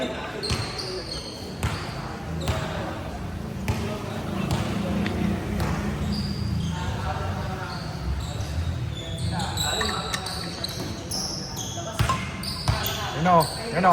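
A basketball bounces repeatedly on an indoor court during a pickup game, sharp thuds mixed with sneaker squeaks and crowd noise, while people talk and shout throughout.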